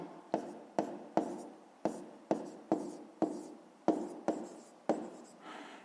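A pen writes on paper while a fifth-grade math exercise is worked out: about a dozen quick, evenly spaced scratchy strokes, close and clear, with no talking.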